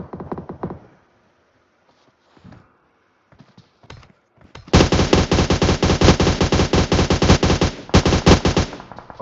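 Automatic gunfire from PUBG Mobile breaks out about halfway through as a loud, dense, continuous rattle of rapid shots that runs to the end, after a few scattered quieter sounds.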